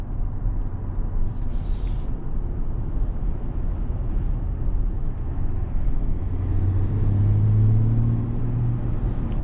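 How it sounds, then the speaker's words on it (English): A 3.0L turbo diesel engine rumble builds as a 2021 Chevrolet Suburban accelerates, rising in pitch and strength, heard from inside with road noise beneath. "As you stop like I just did now and get to an idle, that's where you sort of hear it more."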